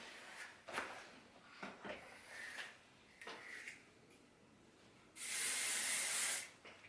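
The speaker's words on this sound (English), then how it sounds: "As I'm going through, I am going to start spraying" Hairspray sprayed onto styled waves in one long, loud continuous hissing burst, following several shorter soft rustles and taps of handling the hair.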